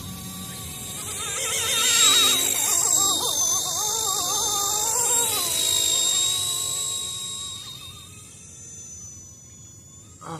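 A battery-powered RC drone flies outdoors with a loud high-pitched motor whine that rises and wavers in pitch as it maneuvers, then gradually fades away.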